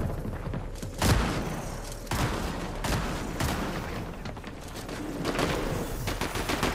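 Repeated gunshots in a competitive shooter match, a mix of loud close blasts and scattered distant shots against busy game noise.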